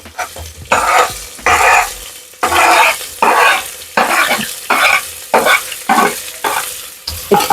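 Chicken frying in a pan with green chillies and onion, loud close sizzling broken up by repeated rhythmic stirring strokes about once a second.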